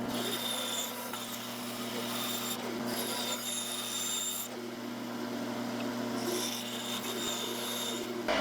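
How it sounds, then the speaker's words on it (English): A utility knife carving wood for an antique corn cob fishing lure, making close, continuous scraping and rasping strokes in uneven bursts over a steady background hum, with no talk. "I'm just wanting to see how practical it is to carve on this stuff with a utility knife."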